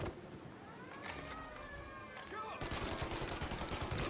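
Bursts of gunfire in the Mafia remake video game, rapid shots crackling under faint game ambience, fairly quiet overall, with a sharper burst of rapid fire toward the end.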